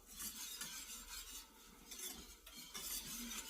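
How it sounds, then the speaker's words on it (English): A whisk stirring a flour mixture in a pan for chicken enchiladas, giving quiet, steady scraping and swishing strokes with faint metallic clinks at close range and no talking. "we want to whisk it to make sure we don't have any lumps."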